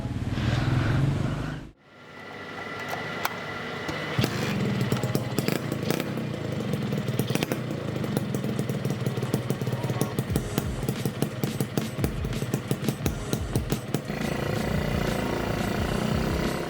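After a short loud burst and a sudden cutoff, a two-stroke motorcycle engine from an old Honda NSR SP Repsol or Suzuki Satria idles and crackles nearby with sharp popping irregular pulses, running continuously without talk.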